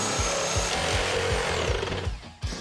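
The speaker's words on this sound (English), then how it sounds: "she's got a reciprocating saw in her hand" A reciprocating saw cuts through wood during a lake house renovation, with rapid rhythmic rasping strokes that are loud and close, then a short pause before the cutting resumes.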